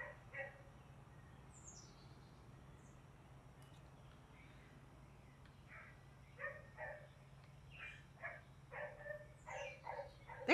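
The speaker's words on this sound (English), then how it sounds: "There is a dog barking back there." A dog barks in the distance, a series of faint, scattered barks growing more frequent toward the end, with occasional bird chirps in a quiet indoor setting.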